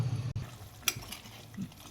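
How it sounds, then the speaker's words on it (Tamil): Tamarind curry (puli kulambu) bubbles in a pot, giving a faint, soft simmering hiss broken by a couple of small pops and clicks, with no talking. "குழம்பு நல்லா கொதிக்குது"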